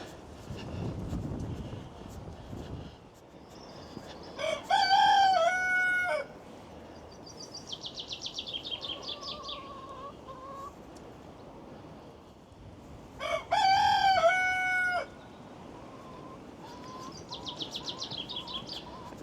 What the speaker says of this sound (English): Oh, I can hear the cockerel.